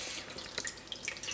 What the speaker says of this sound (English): You can run it through the tap, but be very careful.